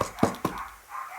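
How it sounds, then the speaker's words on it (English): A dog gives two short, close barks followed by a faint whimper, loud against a quiet indoor background. "So I'm sorry for the barking if you hear it."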